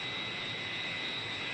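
Su-27 jet engine in a flight simulator game during a smooth descent, a steady unbroken roar with a bright high whine, constant and even in loudness with no voices.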